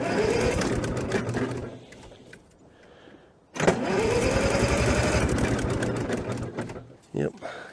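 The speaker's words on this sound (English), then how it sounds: "I'm going to crank it over and make sure we got fuel coming out of those." A track loader's diesel engine is cranked over by the starter, giving a loud rhythmic churning in two long bursts separated by a short pause, close to the microphone, with someone talking over parts of it.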